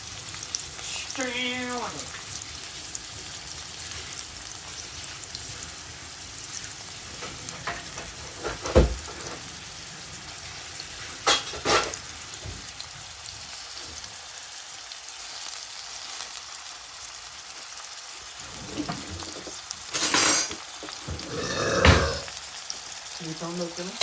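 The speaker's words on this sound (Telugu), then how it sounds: "ఈ ఉల్లిపాయలు వేస్తుంటే వచ్చే సౌండ్ ఉంది చూసావరా, భలే ఇష్టం నాకు అది" Onions sizzle in a pan for an okra and prawn curry, a continuous close frying hiss with occasional stirring clatters, while a voice speaks briefly at the start and again near the end.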